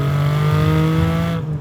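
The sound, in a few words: Porsche Cayman GTS flat-six engine revving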